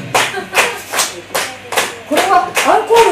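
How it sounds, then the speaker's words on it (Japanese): Scattered audience clapping at a small live venue in Yokohama calling for an encore, in loose bursts of claps with people talking over it. "拍手が来てる"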